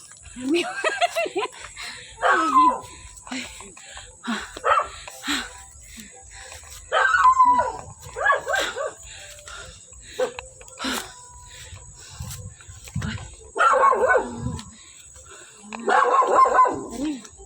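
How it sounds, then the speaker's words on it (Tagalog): A dog barks in short bursts at a distance, with scattered voices and light laughter in between. "Ay, may aso."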